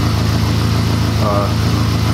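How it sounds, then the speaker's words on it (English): A 1.8 turbo MK4 Jetta engine misfiring at idle with a rough, uneven low rumble, steady and close throughout. "Don't worry about the car sounding weird while it's idling. It's just misfiring"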